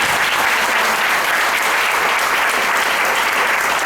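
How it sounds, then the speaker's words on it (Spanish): Congregation at a church service applauding together, a dense, steady wash of many hands clapping at close range, loud and continuous for the whole stretch with no voices standing out. "Da un aplauso en esta preciosa mañana."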